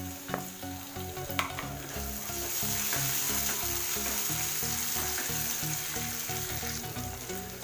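Tomatoes sizzle with garlic in a pan for Indian-style pasta masala, a steady loud frying hiss with scraping stirs and a clatter near the start.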